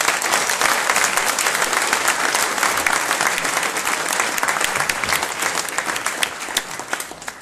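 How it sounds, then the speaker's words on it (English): A tech meetup audience applauds a speaker, a dense, sustained burst of many hands clapping, loud and even throughout, tapering slightly near the end with no talk over it. "Another applause for our speaker"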